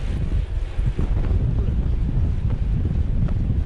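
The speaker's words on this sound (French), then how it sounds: "il y a du vent, ça commence à piquer." Strong wind buffets the microphone during gravel cycling on an ultra-distance brevet, a loud continuous low roar with gusty surges throughout.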